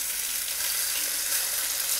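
Pieces of fish fry in oil in a pan over a medium flame for an Odia fish bharta, giving a loud, steady, close sizzle throughout with no talk.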